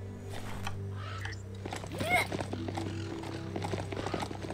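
Horse hooves clopping from a player's mount in the video game Biomutant, with a brief whinny near the middle, over a steady game music and ambience bed while someone talks throughout.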